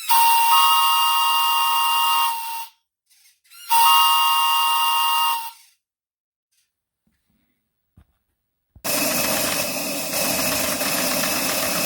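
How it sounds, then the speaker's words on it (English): A steam whistle on a coal-fired LGB live steam Shay locomotive sounds in two long, steady, shrill blasts, followed by silence and then a loud, sustained hiss of venting steam. "So we now test the whistle under pressure."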